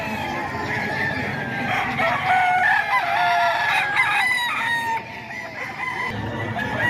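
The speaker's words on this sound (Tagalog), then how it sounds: "Napakaraming manok dito mga ka-idol ngayong Friday" Many chickens and roosters crowd a Friday poultry market in Bocaue, with repeated loud crowing and clucking overlapping continuously against a low bustle.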